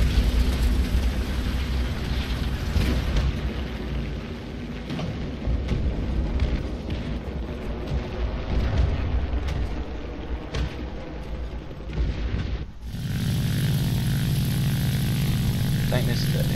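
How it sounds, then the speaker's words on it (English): A kamikaze bomber plane engine drones in the War Thunder video game, a steady loud propeller roar with a brief dip before resuming, while a person talks over it. "Let's get into a kamikaze bomber."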